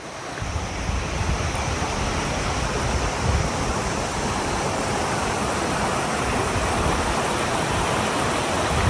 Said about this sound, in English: We need to climb this waterfall.